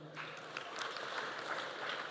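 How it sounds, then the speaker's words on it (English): An audience applauds a graduate receiving a certificate at an institute's award ceremony in Kenya, a dense, steady wash of clapping from many hands lasting throughout, with faint crowd murmur beneath. "Congratulations, let us applaud her."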